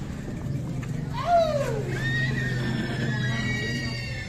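A Sumba horse arriving at the Tolo horse market gives one loud, close whinny with a falling neigh, followed by lighter high squeals, over a low outdoor rumble and faint hoof clops.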